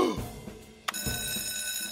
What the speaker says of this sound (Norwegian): Jeg drar og ringer brandmann Sam